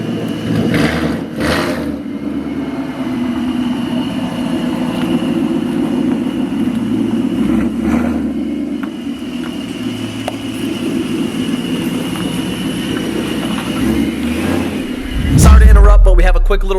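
A car is driven to capture a wheel noise problem after a wheel was removed and bolts re-torqued, giving a steady mid engine and road drone from inside, with a louder rumble near the end.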